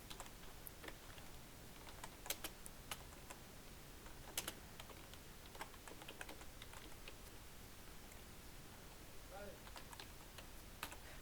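Computer keyboard typing in MS Word while a certificate is made: faint, quiet clicks come in irregular bursts, some sharper taps among them, with a soft voice at times underneath.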